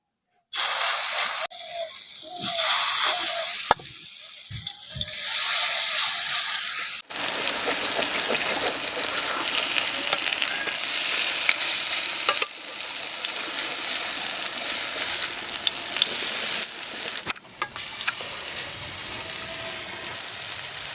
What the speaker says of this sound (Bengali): ওই তেলের মধ্যে বাকিগুলো ভেজে নিচ্ছি